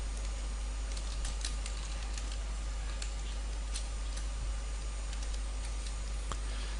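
Scattered keystrokes on a computer keyboard while writing C code, faint irregular clicks in small bursts over a constant low electrical hum.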